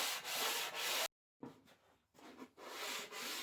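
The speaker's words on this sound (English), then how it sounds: "After a lot of sanding, the sole and cheeks of the plane are looking encouraging." Heavy-backed floor-sander paper rubs against the metal sole of a jack plane being restored, making steady, fairly close rasping strokes in repeated bursts, broken by a short pause.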